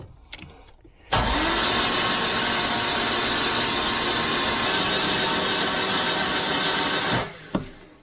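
A Citroen 2CV engine, just swapped, cranking over steadily on the starter for about six seconds without catching, loud and close, with a short click before and a brief knock after.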